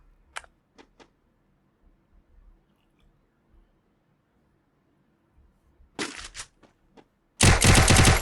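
Bursts of UMP submachine gun fire in the Free Fire video game: a few short sharp shots early, then a quick cluster of rapid shots, ending in a loud sustained automatic burst.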